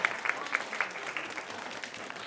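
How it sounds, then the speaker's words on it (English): A church congregation applauds at a Sunday service, a soft, steady patter of many hands heard at a distance and fairly faint throughout. "Give yourselves a round of applause."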